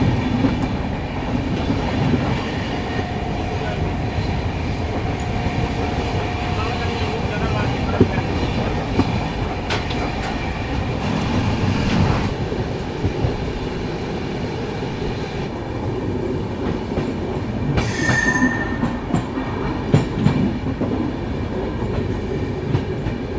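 A train on the Kolkata to Dooars route rolls steadily along the rails with a continuous rumble and rhythmic clatter, a brief metallic squeal rising partway through; no voices.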